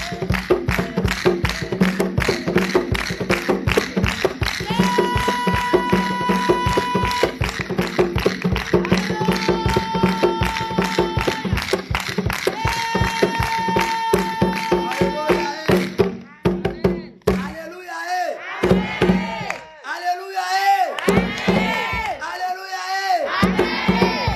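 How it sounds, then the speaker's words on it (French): Church congregation at a prayer and healing service cheering and shouting in acclaim of Jesus, loud and crowded; rhythmic worship music dominates at first, then gives way to raised voices. "Acclame le Seigneur Jésus"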